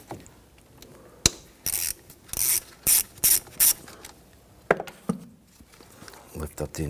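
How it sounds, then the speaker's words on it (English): A 10mm socket ratchet loosens a car battery terminal nut on a 2011-2015 Kia Sorento, giving several short, sharp clicking bursts close up, with a voice speaking between them. "Use your 10mm socket."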